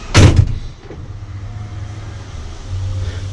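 The cab door of a 2018 Mercedes-Benz Atego 2730 8x4 truck shuts with one loud, close thud, followed by a steady low engine idle rumbling underneath.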